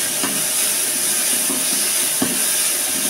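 Dried shrimp fries in a pan for a Bangladeshi balachao-style bhorta, giving a steady close hiss and sizzle with a couple of faint pops and knocks from the pan.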